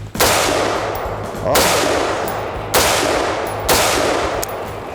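AR-15 rifle shots fired at a range while zeroing a red dot sight. Four loud, sharp reports come at roughly even intervals, each trailing off in a short echoing decay, with a faint hum underneath.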